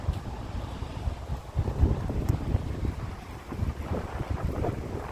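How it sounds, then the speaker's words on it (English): Strong wind buffets the microphone in rough, gusting roars that swell and fade, with a low rumbling backdrop, on a cold, rainy day on the way to Avebury. "It is windy"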